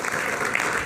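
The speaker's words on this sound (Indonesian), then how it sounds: "Kita berikan tepuk tangan dulu." Audience at an Indonesian talk show claps in brief, steady applause, a dense patter of hands at moderate volume filling the whole short moment.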